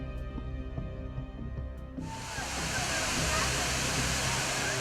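Akasa Ganga waterfall cutting across a travel path, a broad steady rush of falling water that swells in suddenly partway through and then roars loud and continuous over the rest of the clip.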